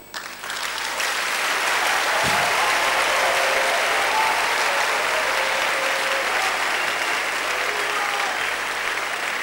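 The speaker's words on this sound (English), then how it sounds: "I don't know why you are clapping like you're not happy" Church worshippers at an evening fellowship keep up continuous, full applause, loud and even from start to finish after a brief opening burst.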